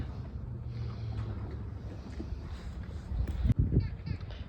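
Steady low engine rumble and wind buffeting from a passing excursion boat on Lake Chiemsee, Germany, in winter, with a brief louder gust or splash near the end.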